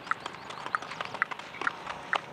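Horse hooves clip-clop in a quick, uneven series of sharp, close taps at a horse market, with faint background noise and no talk.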